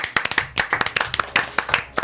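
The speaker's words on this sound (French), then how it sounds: "pour une fois, on peut l'applaudir" A small group claps briskly, an irregular run of sharp hand claps that stays close and loud without cheering.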